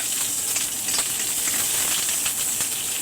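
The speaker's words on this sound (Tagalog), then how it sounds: "Igisa lang natin." Garlic, onion and chili sautéing in a pan, giving a continuous bright sizzle and hiss that holds steady throughout with no voices.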